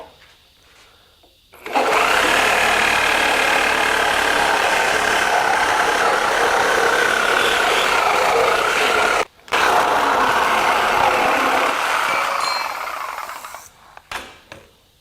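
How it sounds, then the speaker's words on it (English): Reciprocating saw fitted with a Diablo Steel Demon thick-metal blade cutting through thick steel: a loud, close, harsh buzzing rasp running continuously for about ten seconds, with one brief stop before resuming and then winding down. "The Diablo Amped thick metal blades did quite well in cutting this thicker metal."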